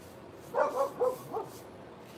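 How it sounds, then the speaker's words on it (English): A few faint, muffled dog barks in a quick cluster, heard from outside at a distance against quiet indoor background noise. "Y'all can hear my dog out there barking."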